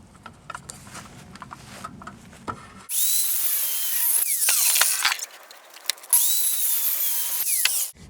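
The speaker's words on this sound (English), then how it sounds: "it's time to chop the rest of the board off" A power saw cutting off the rest of a notched wooden pergola board at full depth, a loud high whining cut starting after a quiet stretch, dipping briefly and resuming until the end.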